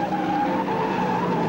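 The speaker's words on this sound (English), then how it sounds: "AJ Foyt went by Brooks on the inside, so close that the draft upset the traction of the number 22. He bobbled" A 1971 NASCAR race car at Daytona bobbling and losing traction after being passed closely on the inside, giving a loud, sustained tire squeal and skid with engine roar underneath for about a second and a half.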